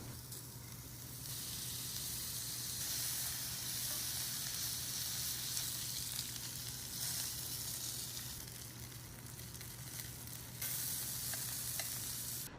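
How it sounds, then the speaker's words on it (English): Shrimp searing in a hot skillet give a continuous close sizzle and spitting hiss, steady and fairly even throughout with occasional faint scrapes. "Shrimp go in the same skillet, only 2 to 3 minutes per side."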